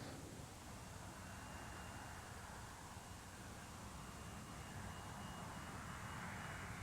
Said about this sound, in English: A U.S. Air Fokker F28 jet like this one roars head-on into the eye of a snowstorm.